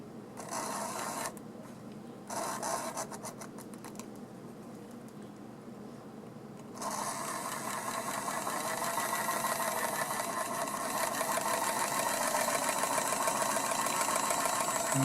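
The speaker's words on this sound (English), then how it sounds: "we'll see how John's locomotive is running here" Mantua model tank engine locomotive running on track after servicing, a steady close mechanical whir and buzz that grows louder and fuller partway through, with no voices.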